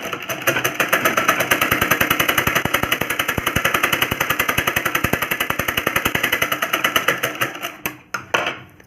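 A sewing machine stitches a finishing seam along a blouse strip, a rapid, even mechanical clatter that runs loud and close before slowing, pausing and giving one short final burst.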